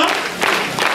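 Brief burst of applause at a gathering, clapping that rises and falls in quick waves over about a second, fairly close and loud, with voices mixed in.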